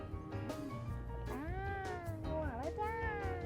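Cats on a small cat island off Fukuoka, Japan, giving several drawn-out, wavering meows one after another, close and clear over low outdoor background noise.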